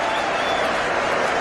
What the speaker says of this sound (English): Cheered all the way to the boundary by this crowd.